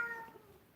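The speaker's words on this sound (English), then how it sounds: "Yo, if you need classes on the meowing, my cat's your gal to go to." A pet cat gives a short, faint meow, a single brief call with no voices.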